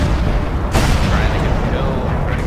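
An IS-2 Berlin, a Tier VII Soviet premium tank in World of Tanks, fires its main gun: one loud, sharp boom near the start that rides over a dense, steady rumble of battle noise.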